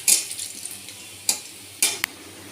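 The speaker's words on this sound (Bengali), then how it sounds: "একটু জিরে দিয়ে দিই, অল্প একটু ফোড়নের মতোই" Cumin seeds tempering in hot oil in a cooking pan with onion and chili, giving a short hissing sizzle at first, then a few sharp utensil clinks and scrapes as it is stirred, close by with no talking.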